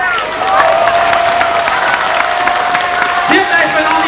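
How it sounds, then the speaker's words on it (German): Applause and cheering from the crowd at a 1992 folk music parade in Moos, a steady, loud wash of clapping lasting about four seconds, with a sustained tone and voices mixed in. "Und einen Applaus für dich"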